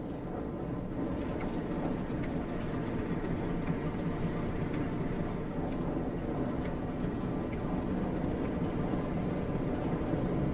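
A continuous low rumble of a moving Class 08 shunting locomotive in Train Sim World 2, with faint rhythmic clatter, steady and unbroken throughout.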